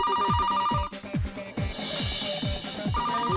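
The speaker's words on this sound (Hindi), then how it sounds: "पूरी की पूरी घंटी बज गई और आपने फोन ही नहीं उठाया" A mobile phone rings nearby with a repeating electronic ringtone, a looping pattern of quick chirping tones that keeps going without pause.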